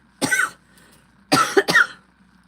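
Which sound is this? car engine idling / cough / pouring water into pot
cough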